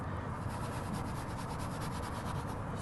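Leather being scrubbed with leather cleaner: a steady, close rubbing and brushing texture that continues unbroken for the whole stretch, with no voices.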